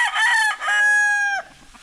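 A farm rooster crows once, loud and close, with a brief catch near the start, while chickens and chicks are nearby. No one speaks.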